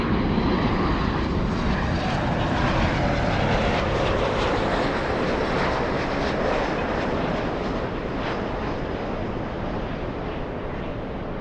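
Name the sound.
Lufthansa Boeing 747 in retro livery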